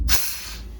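Air brakes being set on a 1956 Flxible Visicoach bus give off a loud, sharp burst of released air that fades into a steady hiss lasting under a second.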